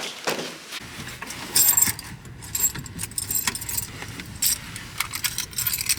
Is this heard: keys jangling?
yes